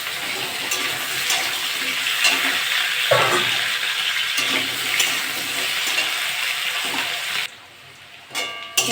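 Taro roots frying with onions in a pan, a loud steady sizzle with stirring scrapes and a clatter midway, without talk, until the sound drops off near the end.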